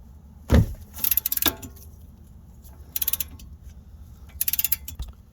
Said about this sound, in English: These are going to be very tight, so you're going to need a cheater pipe, extended handle ratchet.